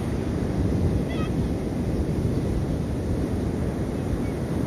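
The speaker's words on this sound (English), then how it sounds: "listen to the sound of the ocean" Ocean surf on a Sardinia beach, a steady broad wash of waves with some wind rumble, continuous and fairly loud with no talking.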